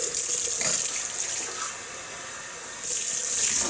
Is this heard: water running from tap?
yes